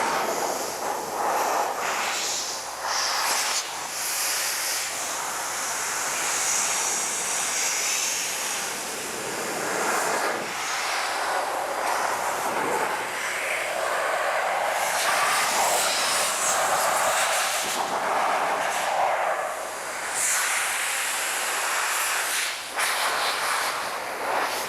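An SGCB Air Force car dryer on its heated setting at full wind speed blows a loud, steady roar of rushing air that runs on without a break and swells slightly at times. No one speaks over it.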